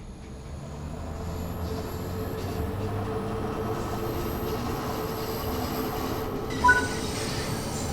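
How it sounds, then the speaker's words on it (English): A Bakerloo Line 72 Stock train in Train Sim World 6 rolls around a curve, its wheel flanges squealing over a steady, close rail rumble, with a brief sharper squeak near the end. "The flange is the disgusting noise the wheels make when you go around a corner."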